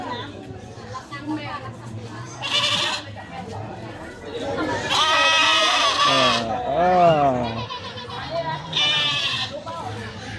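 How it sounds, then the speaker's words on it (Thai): Small goats bleating at a crowded crocodile farm in Samut Prakan, Thailand, several calls rising over a constant hum of visitor chatter and nearby talk. "แพะตัวเล็กๆครับ"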